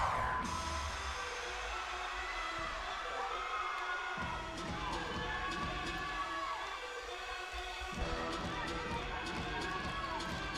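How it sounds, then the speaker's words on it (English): Arena crowd at a Maryland at Nebraska gymnastics meet cheering and clapping along to a floor routine, a dense, loud wash of rhythmic claps and shouts throughout. "We can hear the crowd clapping along."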